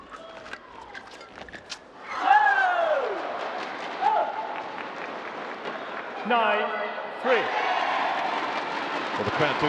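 Crowd at a badminton-style match involving a Korean pair, cheering and applauding in swelling bursts, with a commentator's voice running over the noise.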